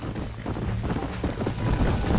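Horses gallop in a race in the video game Red Dead Redemption, a rapid, close drumming of hooves that grows louder toward the end.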